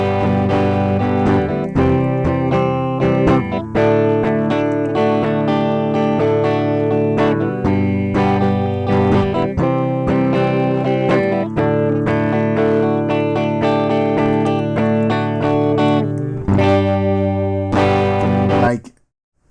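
Electric guitar deliberately overdriven through a Golden Age Pre-73 MKIV microphone preamp, playing sustained gritty chords and riffs for about nineteen seconds, loud and clear, ending abruptly.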